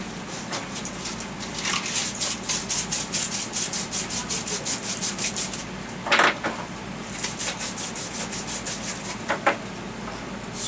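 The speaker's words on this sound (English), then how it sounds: "Sandpaper. There we go." Sandpaper rubs back and forth on PVC pipe in quick, even strokes, close and steady for about ten seconds. A few louder scrapes stand out from the run of rubbing.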